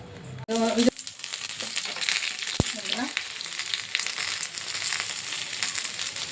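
Fish frying on a banana leaf laid on a flat tawa, a steady crackling sizzle that runs close and fairly loud throughout, with a sharp clink near the start and a brief knock partway through.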